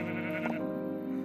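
A sheep in the Minecraft video game gives a single short bleat over a steady background hum of game music or sound.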